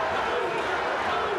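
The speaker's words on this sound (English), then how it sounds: "you could hear the crowd picking up the chant now, Luger, Luger, Luger" A wrestling arena crowd chanting a wrestler's name, a steady roar of many voices filling the space, brief and continuous.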